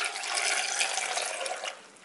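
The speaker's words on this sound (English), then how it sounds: "next thing I'm going to do now is to pour in some water" Water pours into a blender jar holding peppers and tomato, a steady splashing gush for about two seconds that thins out toward the end, with no talking.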